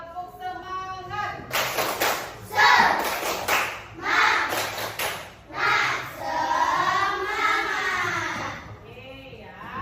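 Primary school class doing a rhythmic spirit clap routine, bursts of clapping in patterned groups alternating with children chanting in unison, close and loud.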